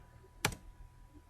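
A single sharp keystroke on a computer keyboard, a quiet close click like the enter key being pressed, set against a faint steady background hum.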